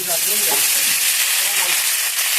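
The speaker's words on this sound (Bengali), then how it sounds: "পেঁয়াজ কুচিটা লাল লাল হয়ে যায়, এর মধ্যে টমেটো কুচি দিয়ে দেবো" Chopped onion and tomato sizzle steadily in a pan for egg curry, a dense continuous frying hiss with faint stirring scrapes, close and fairly loud throughout.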